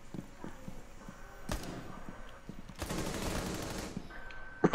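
Bursts of automatic gunfire in Rainbow Six Siege ranked play crackle through, including a long dense volley near the end, with scattered footsteps and shots before it and no talk.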